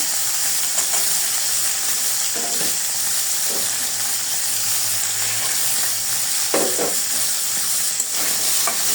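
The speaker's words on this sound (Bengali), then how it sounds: "রসুনটাও ভেজে নেব। দিয়ে দিলাম রসুন" Garlic fries in a pan alongside chilies for a dried-fish dish, giving a loud continuous sizzle and hiss with occasional scraping bursts as it is stirred, close and steady.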